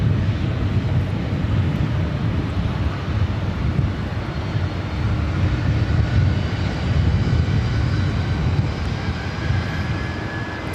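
A Southwest airliner taking off on runway 24 right at LAX produces a loud, continuous jet engine roar. The broadband rumble holds steady throughout, with some wind noise and no speech.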